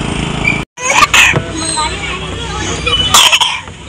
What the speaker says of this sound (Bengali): এখনো কাশি আছে।